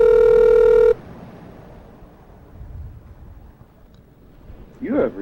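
A telephone call goes out: a loud, steady tone-like dialing sound lasts about a second, then a long hush of faint line noise before a voice briefly begins to speak at the end.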